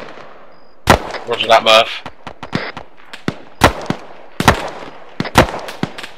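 Gunfire at a 6th Airborne Division military reenactment exercise: sharp, loud shots crack out singly and in quick clusters, with gaps between them and voices talking over the firing.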